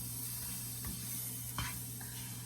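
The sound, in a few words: bread croutons stirred and toasting in butter in a pan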